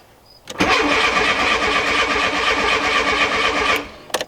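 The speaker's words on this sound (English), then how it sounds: "I'm gonna let the car run until the fans come on" A 1987 Volkswagen Jetta GL engine cranks and catches, then runs at a steady, buzzy idle for about three seconds before cutting off, close and fairly loud.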